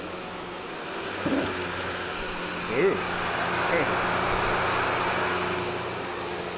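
A Shark Navigator Lift-Away upright vacuum with PowerFins HairPro runs on carpet, a steady loud motor whoosh with slight surges as it is pushed, and a person briefly exclaims over it.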